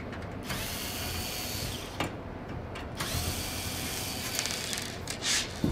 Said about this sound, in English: quickly unscrew this as well to show you inside